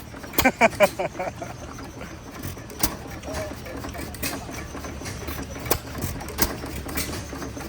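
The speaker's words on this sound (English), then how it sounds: "Another nice running engine." An old stationary engine built by a company in Oshkosh, Wisconsin, runs at a vintage power show, with irregular knocking firing beats over a steady mechanical chatter, heard outdoors with people talking nearby.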